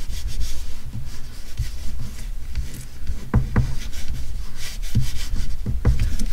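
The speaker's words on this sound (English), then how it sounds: "Just burnish it all down." A notebook cover panel is burnished down by hand, producing close, dry rubbing and scraping strokes in an irregular rhythm, with a few sharper taps near the end and no voices.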